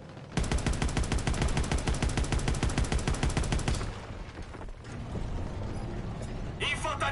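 Rapid small-arms fire in a World War II campaign video game, a dense rattling burst of automatic shots for several seconds, then fading into mechanical clatter and background game noise with voices.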